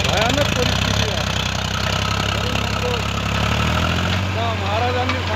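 A tractor engine idles steadily in a soybean field, its low rhythmic throb continuous and close throughout, with other sounds layered over it.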